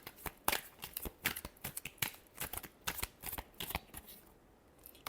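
A deck of tarot cards is shuffled by hand close up, producing quick irregular papery riffles and flicks in a steady flurry, quiet and with no talking.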